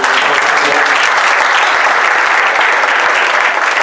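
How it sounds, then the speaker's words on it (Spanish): An audience at an interview event in Mexico bursts into steady, loud applause welcoming a journalist and writer, continuous dense clapping from a sizable crowd with no voices standing out. "Así que bienvenida Silvia, un aplauso por favor."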